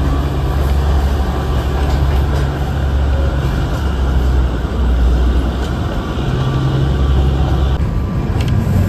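Darjeeling toy train running along a winding mountain track, with a steady, loud rumble and rattle of the carriages that continues without a break.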